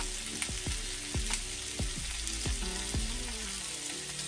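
Chopped shallot and scallops with bacon sizzle steadily in a hot pan, with a dense frying hiss and several sharp crackles and pops as the food hits the fat, no talking.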